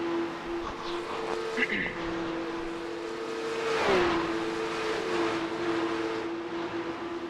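A Porsche 911 Cup (992.2) race car engine drones steadily in iRacing at Miami International Autodrome, pitch dipping once as it shifts, with a voice talking over it.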